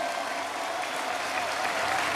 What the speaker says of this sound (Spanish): El Papa Benedicto XVI, que está mirando y lo vamos a aplaudir